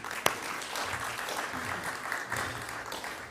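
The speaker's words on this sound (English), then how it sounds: "round of applause for Barry." Audience at a community awards ceremony applauding a Rotary Club representative, a soft, even patter of clapping from a modest crowd, fairly distant and sustained throughout with one sharper clap near the start.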